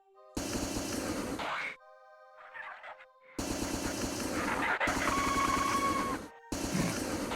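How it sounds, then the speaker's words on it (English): Loud bursts of gunfire and game effects from the 1994 Marathon first-person shooter, including a flamethrower death noise like a squawking chicken, broken by short gaps and a quieter stretch, with no talking. "That's still my favorite, like, flamethrower death noise."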